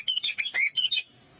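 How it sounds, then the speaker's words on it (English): A spangled drongo gives a quick run of sharp, metallic chirps in several close bursts, then stops, heard alone against a quiet background. "Spangled Drongo"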